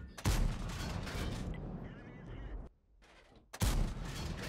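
Tank cannon fire from the TS-5 in World of Tanks, aimed at a Jagdpanzer 8.8: loud booming shots open and close the clip, separated by a rumbling lull and a quiet gap, with no talking.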